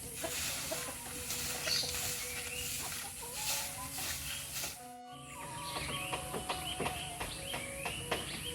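Chickens cluck and chatter continuously as they are fed, several birds calling close by at a moderate level against soft background noise, without speech.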